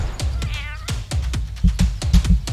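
A cat meows several times in quick succession, loud and close, with a drawn-out, wavering cry in the middle and shorter meows toward the end.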